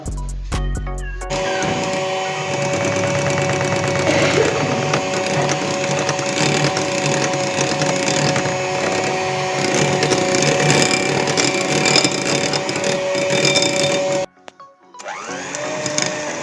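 Electric mixer whipping 33% fat cream with powdered sugar and 200 g of cream cheese for a meringue roll filling, a loud steady whirring drone that runs unbroken for about thirteen seconds, then cuts out briefly before restarting.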